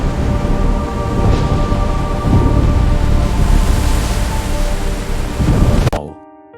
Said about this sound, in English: Dark clouds gathered in the sky. Thunder rolled. Rain began to fall.